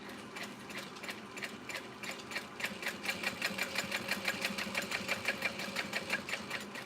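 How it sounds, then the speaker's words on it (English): A sewing machine back stitches the start of a bag pocket, its needle ticking in a fast, even mechanical rhythm that grows slightly louder and more distinct toward the end, close by with no talk. "back stitching at the start of that pocket, going up"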